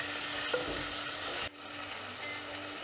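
Tomatoes and coriander sauté in a clay mud pot, giving a steady close sizzle with stirring. The sizzle dips briefly at the midpoint, then carries on.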